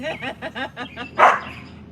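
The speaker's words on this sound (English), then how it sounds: "So they stop barking. They'll bark in the house." Dogs bark repeatedly in a quick rhythmic series indoors at a home, fairly loud and close, ending with a sharper louder yelp.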